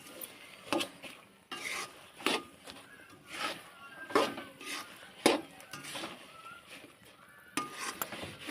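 Sesame seeds, peanuts and jaggery stirred and turned in a pan while roasting, giving quiet, uneven scraping and rasping strokes with light clinks of the spoon against the metal, repeated at an irregular pace.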